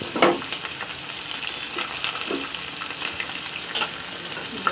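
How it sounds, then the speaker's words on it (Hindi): Fennel seeds and chopped onion sizzle and crackle in hot oil in a home kitchen, a steady close frying hiss with a few stirring scrapes and no talking. "तो ऑयल तो गर्म हो गया है, तो इसमें मैं सौंफ ऐड कर दूँगी। देन उसके बाद मैं इसमें अनियन ऐड कर दूँगी।"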